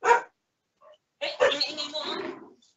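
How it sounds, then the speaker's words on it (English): A dog barks a few times in the background of a heated phone debate, sharp yelping bursts mixed in with someone talking over the line. "The dog is joining."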